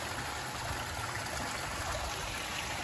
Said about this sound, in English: we got two outgoing waterfalls